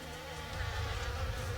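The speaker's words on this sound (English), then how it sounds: "getting stung by one of those bees." Bees buzz in a steady, close drone for a brief moment, with no other sounds.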